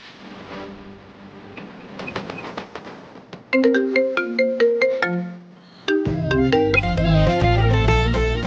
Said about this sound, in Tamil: டேய் அண்ணனுக்கு ஃபோன் பண்றான்.